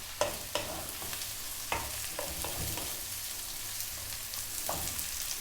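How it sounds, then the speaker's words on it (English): Sliced onion stir-frying in hot oil over high heat makes a steady sizzle punctuated by sharp scraping and clacking strokes of a utensil against the pan, close and fairly loud, without speech. "Next up, 1 cup of onion sliced"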